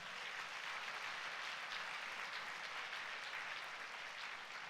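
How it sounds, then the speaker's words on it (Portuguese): A church congregation at a Sunday service applauds in praise, a steady, even wash of clapping that sounds distant and faint, with no voices above it. "Vamos dar um aplauso ao Senhor?"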